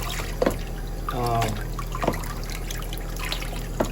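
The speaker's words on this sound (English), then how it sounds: "I'm gonna start watering actually, as I say it" Water trickling and dripping while Dendrobium orchids are watered indoors, a soft close dribble with small splashes and a brief voice in the background.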